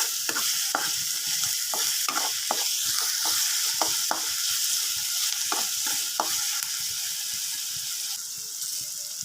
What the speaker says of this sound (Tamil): இந்த வெங்காயத்துக்கு கொஞ்சமாக நல்லா வதங்க விடுவோம்